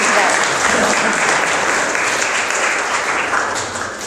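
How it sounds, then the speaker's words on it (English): Wedding guests give a warm, sustained round of applause, loud and dense throughout, tapering slightly toward the end. "Please give them a little round of applause for getting these two here today."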